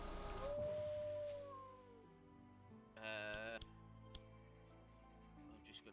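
Sheep bleating in the video game Across the Obelisk, a short wavering cry near the start over quiet game music, followed by a brief bright chiming effect and scattered clicks.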